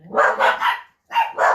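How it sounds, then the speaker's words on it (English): A dog barks indoors at a suspected cat on the front lawn: five loud, close barks in two quick bursts with a short pause between. "Excuse my dog, I'm assuming there's a cat on my front lawn."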